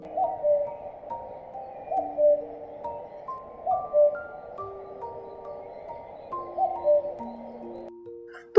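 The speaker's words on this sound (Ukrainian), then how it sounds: "Так, так, це зозуля." A soft two-note cuckoo call repeats at a steady pace, sounding gentle and somewhat distant against a quiet background.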